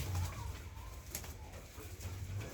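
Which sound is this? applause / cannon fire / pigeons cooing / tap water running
pigeons cooing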